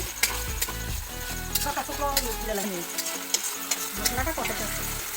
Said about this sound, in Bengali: ভালো করে কষাও